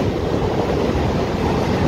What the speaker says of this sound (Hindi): बहुत ही तेजी में हमारी ट्रेन चल रही थी